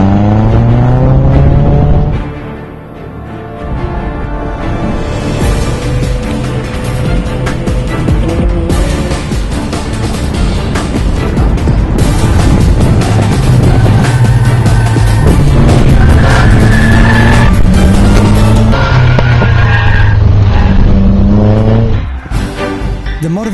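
A little Lotus race car speeds past with a loud, shifting engine roar that rises and falls through gear changes, sometimes with a sharp higher-pitched squeal over it. No voices.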